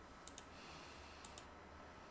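Two pairs of faint, sharp mouse clicks, each pair a quick double click, about a second apart over a quiet computer room hum as Chrome is opened.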